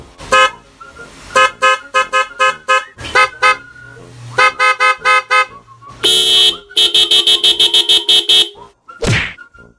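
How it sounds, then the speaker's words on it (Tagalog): An electronic talking car horn plays a series of loud choppy tones and beeping patterns, with shifting pitches and brief pauses, close and piercing. "May mga busina dito na marunong magsalita."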